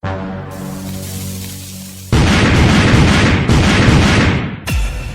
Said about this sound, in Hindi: अभी भी कुछ पटाखे बचे हुए हैं, मैं फिर से ट्राई करता हूँ।